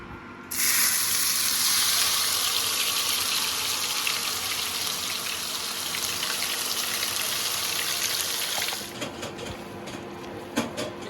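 Chutney paste hits hot mustard oil with a sudden loud burst of sizzling that roars steadily and close, then eases into softer crackling and spattering toward the end.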